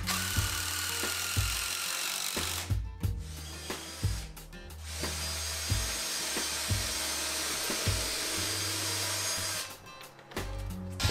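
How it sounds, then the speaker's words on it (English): Power drill pre-drilling holes and driving 3-inch wood screws to join four boards of a wooden planter box frame, with several whirring bursts and pauses between them, close and fairly loud. "pre-drill the holes and then use 3-inch wood screws to fasten the 4 pieces together"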